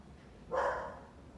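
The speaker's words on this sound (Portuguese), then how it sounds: "Você vê que os cachorros não me dão uma trégua aqui" A single dog bark rings out once, moderately loud and slightly distant, against a quiet background.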